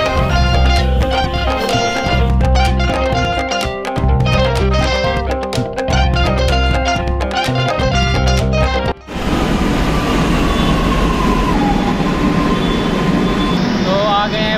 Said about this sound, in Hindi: अब यहाँ पे आएगी मेट्रो, फिर उसमें बैठ के चलेंगे हम।